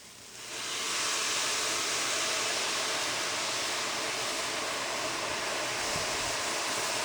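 Chicken broth pours steadily into a pot over broccoli and bacon, a continuous broadband splashing rush that starts within the first second and holds at an even level, close and alone.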